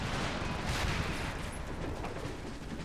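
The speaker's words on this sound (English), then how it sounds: "Cannon starting to fire." Cannon fire in the battle game Empire Total War: dense, rumbling booms and crackling gunfire blending into a continuous, moderately loud battlefield din.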